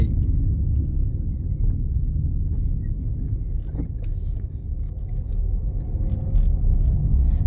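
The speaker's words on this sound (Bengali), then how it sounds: "আমি এখন ড্রাইভ ব্যাক করছি" A car drives back from a Mercedes-Benz showroom, its steady low engine rumble and road noise heard from inside the cabin, continuous and even throughout with no talk.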